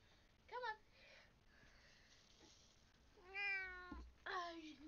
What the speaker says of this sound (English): this is my cat right here.